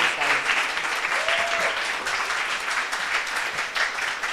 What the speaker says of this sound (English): A round of applause for our presenters, please.